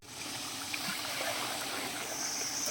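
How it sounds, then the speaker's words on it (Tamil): Steady rushing splash of about 22 liters of water pouring continuously into a large cooking pot for ghee rice, fairly close and loud, with no talking. "தண்ணி சேர்க்குறாங்க."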